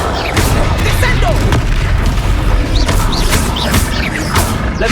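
A Descendo spell strikes in Hogwarts Legacy, landing as a heavy booming impact with crashing debris over a dense, loud game soundscape of rumbling effects and music.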